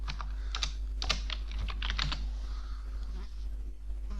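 Keys tapped on a computer keyboard while typing a command, a quick run of clicks near the mic over a steady low hum.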